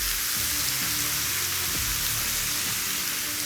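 Bacon cooking across a full flat top griddle gives a steady, dense sizzle and crackle throughout, loud and close, with a low hum underneath and no talking.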